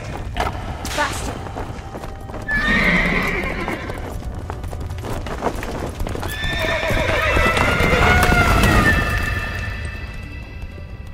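A radio-drama horse gallops with quick, steady clip-clop hoofbeats and lets out a loud, drawn-out whinny near the end, with creaks and rumbles mixed into the staged effect.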